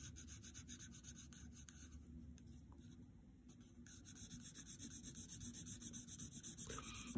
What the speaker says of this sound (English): take the side of your pencil and just make his shirt black, just like Kim's